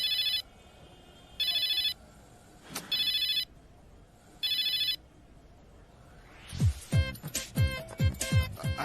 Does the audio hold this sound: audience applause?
no